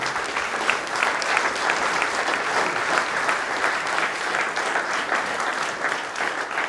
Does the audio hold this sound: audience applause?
yes